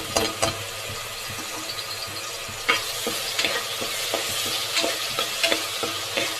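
Garlic and fresh ginger paste roasts in a pan for country chicken sambar, crackling and sizzling up close, with repeated spoon taps and scrapes at an irregular rhythm and no voices.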